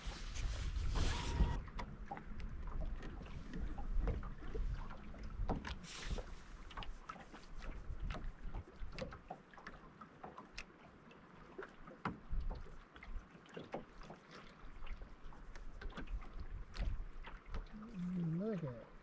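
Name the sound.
wind on a fishing boat on a lake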